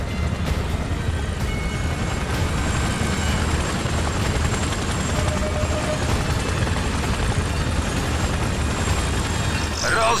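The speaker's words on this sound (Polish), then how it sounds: "Uwaga, duchy! W kierunku VIP-ów leci wrogi śmigłowiec." Enemy helicopter in Ghost Recon Advanced Warfighter 2, a steady loud rotor chop and engine whine droning on continuously through a combat mission.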